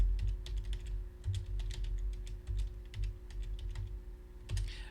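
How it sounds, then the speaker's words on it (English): Typing on a computer keyboard at a ham radio net logging station, with a steady run of close, fairly quiet key clicks over a low hum. "Okay, I'm going to type Roger that."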